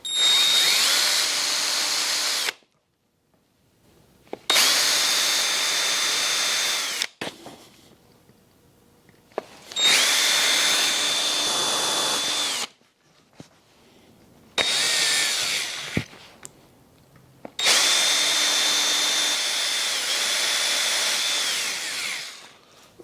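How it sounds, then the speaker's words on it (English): Power drill boring pilot holes for a motorcycle mirror mount on a Yamaha Super Tenere 1200, loud close whirring bursts in five runs of a few seconds each, separated by short silent gaps. "make 2 marks over here, and then drill the pilot hole"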